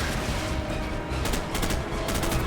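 Gunfire in the video game Call of Duty 4: Modern Warfare, a steady rattle of automatic shots at moderate loudness with bursts of sharper cracks in the second half, no voices.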